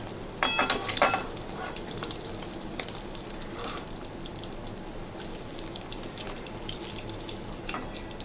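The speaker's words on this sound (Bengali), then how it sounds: "এই তেলে আমি বাকি পনিরগুলো এইভাবে ভেজে নেব।" Paneer pieces frying in a pan of oil for a vegetarian potato and paneer dish give a steady, close sizzle, with a few sharper crackles and clinks in the first second, and no talking.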